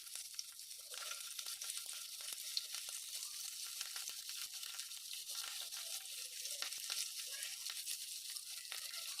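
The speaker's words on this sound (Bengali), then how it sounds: "চুলার আঁচ মিডিয়াম রেখে মাছগুলোকে ভেজে নিচ্ছি।" Pieces of rui fish frying over medium heat in a little hot oil in a pan, a quiet, continuous crackling sizzle with scattered small pops, steady throughout and without voices.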